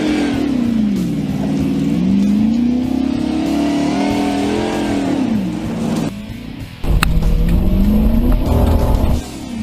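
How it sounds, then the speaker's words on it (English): A race car engine labors and bogs down through very soft dirt, revving loud and close with the pitch sagging and then climbing again, followed by a sharp burst of throttle toward the end. "I hear the engine bogging down through the really soft stuff"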